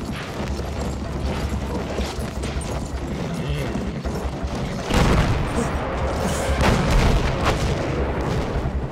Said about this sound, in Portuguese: Malditos britânicos, bombardeando a própria posição para proteger o recuo.